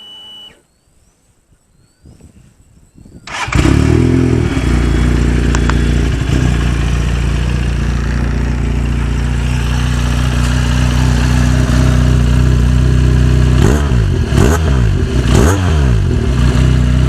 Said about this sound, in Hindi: मैं इसको स्टार्ट करके आपको इसका एग्जॉस्ट साउंड भी चेक करवा देता हूँ, क्योंकि एक्रापोविक का इस वक्त एग्जॉस्ट लगा हुआ है